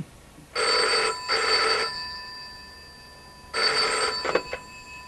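An old landline telephone bell rings indoors in two clear double bursts, loud and close with a short gap between pairs, and no talking over it.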